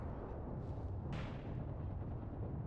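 WW2 artillery barrage striking a position in the game Mius Front: a dense, continuous rumble of explosions with one sharper blast standing out near the middle, distant-sounding and heavy, no talking.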